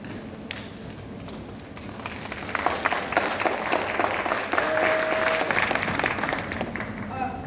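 A parliament chamber at a student council handover ceremony breaks into applause, scattered claps building into steady clapping from many hands, with voices mixed underneath.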